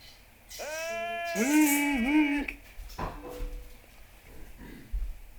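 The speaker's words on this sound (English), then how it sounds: "You mind helping me herd the goats?" A goat in the video game Zelda: Twilight Princess gives a couple of wavering, drawn-out bleats, followed by softer scattered noises.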